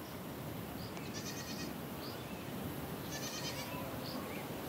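Goats bleat twice over steady farmyard noise, each call a short wavering cry standing out from a constant low rumble, with no talk.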